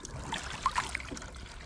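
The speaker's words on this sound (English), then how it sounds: "there's definitely more water coming through" Water trickles and gurgles into the bilge of a Drascombe Lugger sailing boat through freshly drilled holes, a close, soft burbling with small bubbly pops over a low steady wash.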